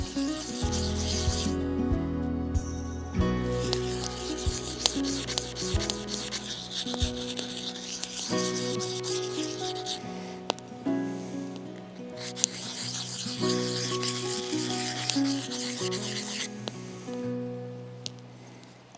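A knife blade is stroked along a diamond sharpener in repeated rasping, scraping passes with short pauses between runs, heard close up over a faint tonal background.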